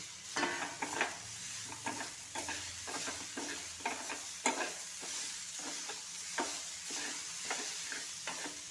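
Tomato tossed into soya chunks and potatoes frying in oil, a steady close sizzle with repeated rhythmic stirring scrapes against the pan.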